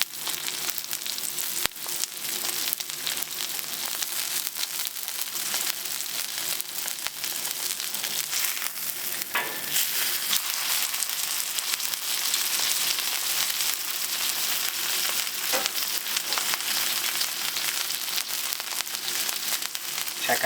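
Steak searing on a Traeger Flatrock griddle cooked hot and fast, giving a loud, steady, dense sizzle that runs unbroken throughout with faint crackles and no talking.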